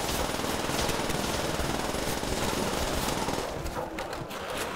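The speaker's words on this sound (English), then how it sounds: "Anybody that ever asked me why my favorite gun is the PPSH, that right there is why I love this thing." A PPSh submachine gun fires a sustained rapid burst in a custom zombies video game, loud, dense and rattling for about four seconds, then the burst breaks off into a few scattered shots.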